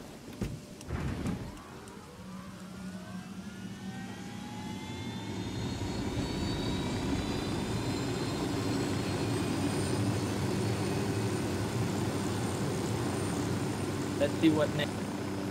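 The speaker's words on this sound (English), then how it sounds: "We are gonna change to chopper." A helicopter in a tactical shooter video game spools up and flies, a rising engine whine that settles into a steady, loud rotor drone, with someone speaking briefly over it.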